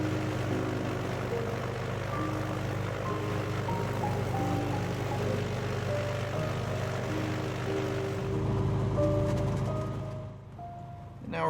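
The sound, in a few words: Cessna T182T aircraft engine running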